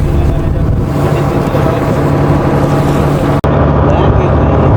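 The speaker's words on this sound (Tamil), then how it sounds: "போட் வந்து போய்கொண்டிருக்குது கோயிலை நோக்கி." A boat motoring across water toward a temple, a loud, steady engine rumble mixed with wind and water rush, broken once by a sharp click.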